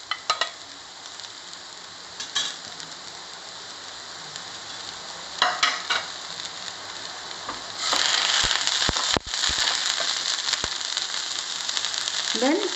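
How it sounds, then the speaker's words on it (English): Onion, garlic and ginger frying in a pan, a steady sizzle throughout with several sharp stirring scrapes and clinks, growing louder and denser in the second half. "After frying the onion for 2 minutes, I will be adding the garlic"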